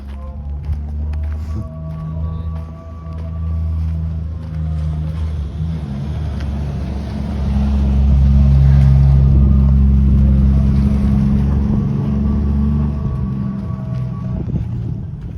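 A pickup truck of the Wadi Rum car service drives off-road through the Jordanian desert, its engine droning loudly and steadily, rising in strength midway, with wind buffeting the microphone.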